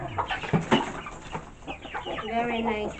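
Chickens and a big rooster cluck in short, close bursts in a farmyard, ending in a drawn-out tonal call, with a faint voice in the background.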